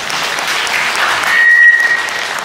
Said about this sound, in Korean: 다시 한번 우리 신랑 수고했다고 수고의 박수 부다드리겠습니다